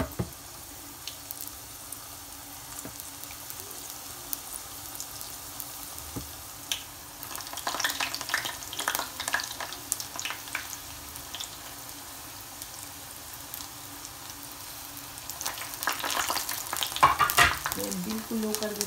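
Sweet samosas frying in oil in a pan over low heat, a soft constant crackle and sizzle that grows busier in two stretches, with occasional light knocks.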